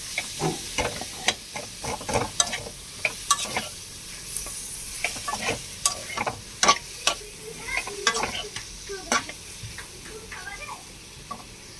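Boiled potatoes fry in a pan for a soybean and potato curry. A low sizzle runs under frequent sharp spatula scrapes and knocks, close and rhythmic, as the pieces are stirred.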